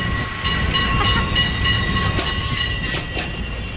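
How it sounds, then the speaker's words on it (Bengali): Kolkata tram moving along its tracks, a steady rolling rumble with rhythmic clicks from the wheels and a few sharp metallic squeals and clacks, heard close from on board. "তো আমাদের ট্রাম ছেড়ে দিয়েছে"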